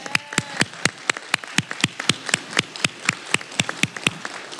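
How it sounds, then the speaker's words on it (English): Clapping at the Copper Mountain College 2024 adult education graduation, honoring the adult ed faculty and classified support staff: crisp, evenly spaced claps in a steady rhythm, close and fairly thin, with no talking. "Can we all give them a round of applause?"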